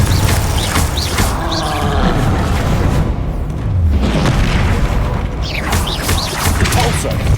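Hogwarts Legacy combat unfolds as Glacius and Confringo spells land in a string of loud booms and crashing impacts, with chirpy magical effects and a player talking throughout.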